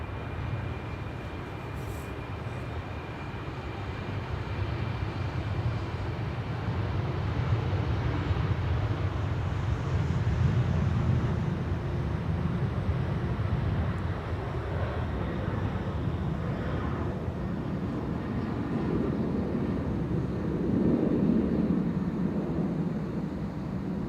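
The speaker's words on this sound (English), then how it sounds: "Next up, KLM flight 1303 to Gdansk, Embraer 190." A KLM Embraer 190 jet at Amsterdam Schiphol Airport gives a steady, continuous engine roar that swells gradually and holds at moderate loudness, heard from a distance without speech.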